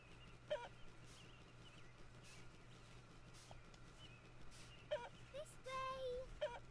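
Chickens in the Peppa Pig video game give short clucks and squawks at intervals over a steady electronic hum, with a brief game jingle near the end.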